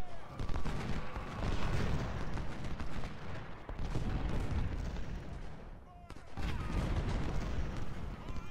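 Dense crackling musket volleys and booming cannon fire in the video game Ultimate General Civil War at Crampton's Gap, rolling in sustained bursts with a brief lull, while someone talks over the battle.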